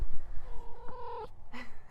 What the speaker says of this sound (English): Oh, here comes my cat to cheer me up.